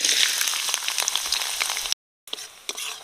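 Chopped onion frying in hot mustard oil in a wok, a loud, steady close-up sizzle and crackle with a brief silent gap near the end before the sizzling resumes.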